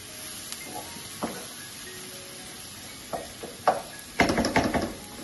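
Chopped tomatoes go into roasted masala in a home kitchen pan, with scattered soft crackles and taps that build into a busier burst of sizzling and stirring near the end, with no talk.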